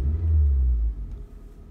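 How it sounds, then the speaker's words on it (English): A Suzuki SX4 engine with an idle problem after a throttle body clean gets a quick throttle blip: a close, deep rumbling swell that lasts under a second and then falls back toward idle. "watch it, I'll blip the throttle."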